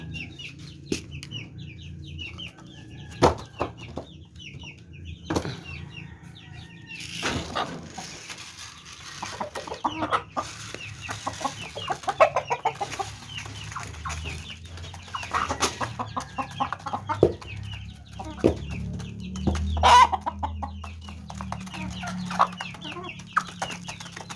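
Several chickens cluck and murmur steadily nearby while being fed, with occasional louder squawks over a low background hum.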